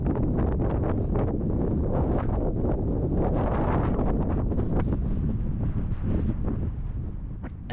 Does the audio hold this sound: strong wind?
yes